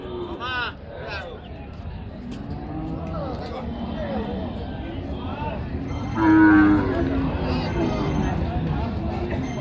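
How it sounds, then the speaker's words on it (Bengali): Bulls bellowing and mooing at a busy cattle market near a border area, loud nearby calls over a constant murmur of crowd chatter and talking. "সুন্দর সুন্দর কোয়ালিটির গরু কিন্তু আছে, হাটে উঠেছে"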